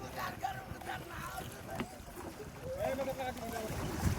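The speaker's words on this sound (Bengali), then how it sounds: "আমরা এখন মাছ নদী দিয়ে ছোট্ট কুষা নৌকা দিয়ে যাচ্ছি" A small kosha boat moves along a river near Narsingdi, giving a low, even rush of water and wind against the hull while people talk faintly over it.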